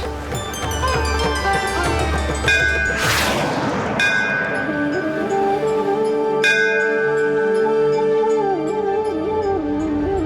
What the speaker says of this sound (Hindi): मंदिर का घंटा अपनी ध्वनि से उसका मार्गदर्शन करता है।